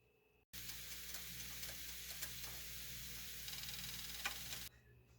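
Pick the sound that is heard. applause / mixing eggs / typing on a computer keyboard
mixing eggs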